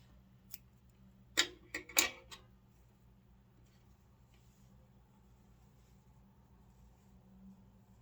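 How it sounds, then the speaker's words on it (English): Scissors snip through crochet yarn, with a few quick, close cuts clustered together followed by quiet room tone. "I'll cut another piece to do the wrapping around"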